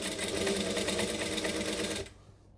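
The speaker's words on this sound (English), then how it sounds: "then just continue sewing around" A sewing machine stitches around a saddle bag with a steady, close mechanical whir, running for about two seconds and then stopping abruptly.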